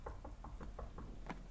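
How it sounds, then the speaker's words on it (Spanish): Knocking on a door in a horror story: about seven quick, faint raps in a row, close by and alone. "Llaman a la puerta."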